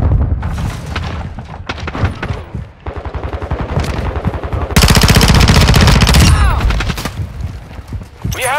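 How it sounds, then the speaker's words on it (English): Dense video-game combat with rapid automatic gunfire and bursts of shots, a loud sustained stretch of fire midway and booming detonations from a thrown stun grenade, all close and loud with no clear talk. "Throwing a stun grenade!"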